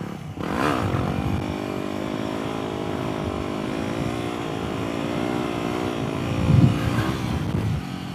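A Yamaha WR250X motorcycle on a test ride, its engine droning steadily with climbing harmonic pitch as it accelerates through the gears, a louder rev near the end, ridden with no talking.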